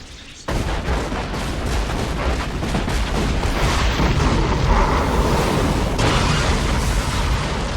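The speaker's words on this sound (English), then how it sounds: "I'm in love with Gurren Lagann's explosion effects, they're brilliant!" Anime battle explosion effects from Gurren Lagann erupt suddenly after a brief quiet moment, then sustain as a loud, dense roar of booming blasts and crackling gunfire-like bursts, with another surge near the end.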